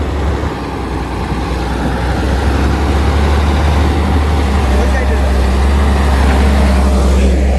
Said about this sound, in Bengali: গাড়িটার ইঞ্জিন সাউন্ড কেমন আমি সেটাও শোনানোর চেষ্টা করব